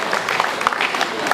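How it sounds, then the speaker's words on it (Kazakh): Guests at a wedding celebration applaud in a loud, dense burst of clapping, with a few raised voices and cheers mixed into the steady patter. "Шапалақ қайда шапалақ қошеметтеріңіз?"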